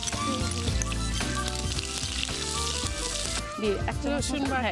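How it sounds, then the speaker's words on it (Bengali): Onions fry in a pan with a little sugar, a steady close sizzle that keeps going under someone talking and some clattering. "একটু আমি চিনি দিয়ে দিচ্ছি, পেঁয়াজটা ভাজবো তো কালারটা ভালো হবে।"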